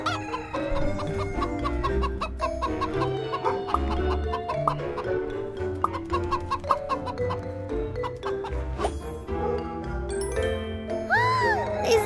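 A flock of chickens clucking continuously and busily, many overlapping calls close by, with a rising squawk toward the end.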